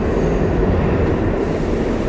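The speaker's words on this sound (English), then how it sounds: "If you've never been in the subway in New York City" A New York City subway train rumbles steadily, loud and close, a dense low roar of wheels and cars with no pauses or voices.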